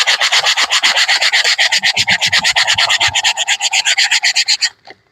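A wood surface is sanded by hand before woodburning, with rapid, even back-and-forth rasping strokes that are loud and close, then stop abruptly near the end.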